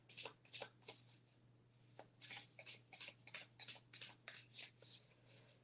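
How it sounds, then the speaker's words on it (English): An oblong glyph card deck shuffled by hand, repeated papery riffles and slides in quick uneven bursts, close and fairly quiet over a low steady hum, with no talking. "it's a little hard to shuffle an oblong deck, so they kind of, slip and slide."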